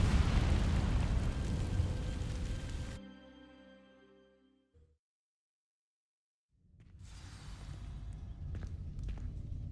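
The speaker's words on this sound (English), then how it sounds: "These dry vines are one spark away from becoming kindling. Incendio!" A fire spell bursts against dry vines in Hogwarts Legacy, a loud roaring whoosh that decays to silence before a rumbling crackle of flames swells back up, close and full.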